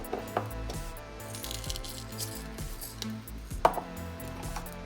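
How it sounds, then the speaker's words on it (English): A handful of black peppercorns dropped into a pot of turmeric tea with lemon and honey, giving a few small sharp clicks, sparse and faint, over a low steady background hum. "Also going to add a handful of black peppercorn."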